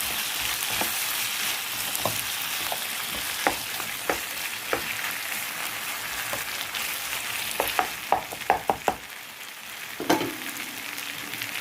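Carrots frying in a pan during pasta cooking give a steady, close sizzle with scattered stirring clicks and scrapes, several sharper utensil taps clustered near the end.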